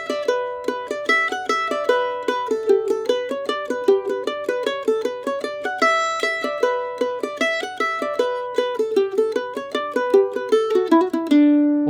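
A mandolin plays a tune alone with a moderate eighth-note swing, neither straight nor heavily swung. Steady plucked notes ring out close and clear in a bouncing, uneven rhythm.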